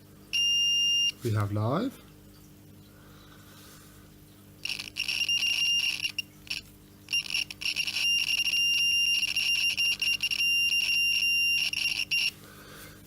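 A continuity tester shrills with high electronic beeps on the plug of a broken Miele S5210 vacuum cleaner: one short beep near the start, then long, nearly unbroken beeping with brief gaps. A voice speaks briefly early on.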